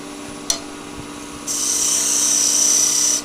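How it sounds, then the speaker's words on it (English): A square-sided skew chisel cuts a dovetail into a spinning wooden peg doll on a wood lathe, a steady high-pitched whine that starts abruptly after a brief tap and runs alone for nearly two seconds before stopping. "So I'm going to go straight in with a square-sided skew."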